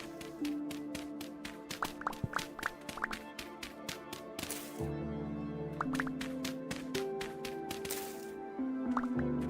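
Digging clay in the survival game Vintage Story gives rapid, repeated wet squishing taps in two bursts, a soft thud between them, over quiet ambient game music.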